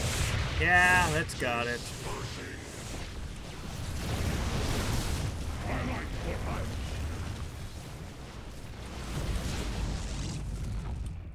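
Cannon fire in StarCraft 2: Wings of Liberty during a Protoss battle, heard as rumbling booms and blasts that keep up steadily, with a short bit of talk at the start.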